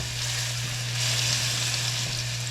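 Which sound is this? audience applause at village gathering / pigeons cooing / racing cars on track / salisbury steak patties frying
salisbury steak patties frying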